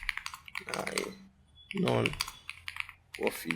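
Typing on a computer keyboard while writing HTML, bursts of quick clicking keystrokes broken by short pauses, close and clear, with a person talking between and over the taps.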